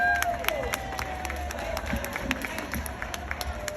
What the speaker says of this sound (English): So please give a big round of applause for Dr.